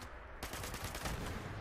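Rocket launcher fire in Fallout 76 bursts in suddenly as a loud, dense explosive blast with rapid rattling impacts following one after another, close and continuous over a rumbling background, with no voices.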